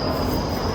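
A summer special passenger train on an Indian Railways route, heard from close by as a steady loud rumble with a high-pitched wheel squeal running throughout, no voices.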